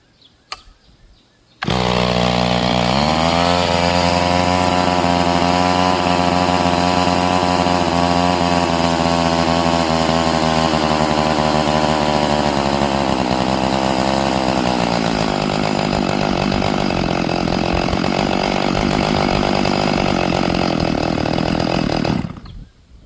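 A chainsaw engine revs hard and holds a loud, close, steady high-pitched whine while its manual carburetor is being tuned. It starts abruptly after a short quiet lead-in, sags slightly in pitch midway and cuts off near the end.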